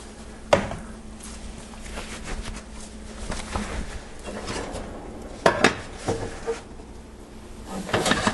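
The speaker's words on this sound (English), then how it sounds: "take the preheated La Cloche out of the oven and gently invert the proofing basket into the base of the La Cloche" A proofed no-knead bread loaf turned out of its proofing basket into the hot base of a La Cloche clay baker, with dull knocks and clatter of ceramic and kitchenware spread across the scene, loudest in a few sharp clunks.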